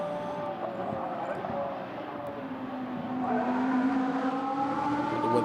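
A GT Masters race car approaches and passes on track at the Red Bull Ring, its engine note rising in pitch and volume as it nears, heard under a commentator's voice.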